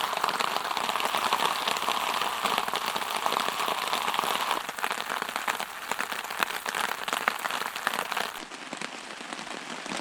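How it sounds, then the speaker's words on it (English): Steady, dense rain falls on a wilderness campsite during a solo canoe trip in Algonquin Park, a loud continuous patter close by with no voices. "it's been raining for about 2 hours now"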